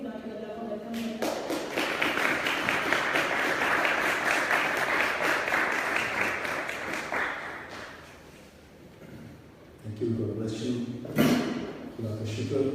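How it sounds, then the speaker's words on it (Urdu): Congregation clapping in a London church, welcoming a preacher with a burst of hand claps that swells, eases off, then gives way to scattered sharp claps and a voice speaking. "ہم خدا کی جلال کے لیے تالیاں بجاتے ہوئے خدا کے بندہ کو ویلکم کریں"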